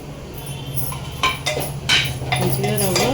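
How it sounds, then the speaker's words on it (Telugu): Semolina (rava) roasting in homemade ghee for rava kesari, stirred in a pan with a spoon that scrapes and clinks against the metal in a steady, close, moderately loud run of strokes, with a low background hum. "ఈ నేతిలో మనం రవ్వ వేయించుకుందాము"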